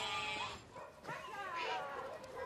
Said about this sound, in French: ces moutons profitent d'herbages étonnamment riches et réveillent les quartiers.